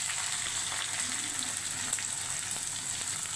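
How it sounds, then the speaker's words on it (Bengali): Chopped onions hit hot ghee over a raised gas flame for mutton keema and fry with a steady, hissing sizzle. The sound stays moderately quiet and continuous throughout, with no talk. "এবার গ্যাসটা বাড়িয়ে দিলাম, দিয়ে আমি সমস্ত পেঁয়াজ কুচিটা ঢেলে দেব।"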